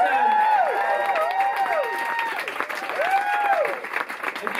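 Audience applause at a live concert in a Pizza Express restaurant venue in Holborn, loud and sustained throughout, with cheering voices and whistle-like calls rising and falling over the clapping.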